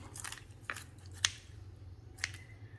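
Kitchen shears snip through a raw chicken's spine in a few sharp, separate crunching clicks over a low background hum, fairly quiet and close.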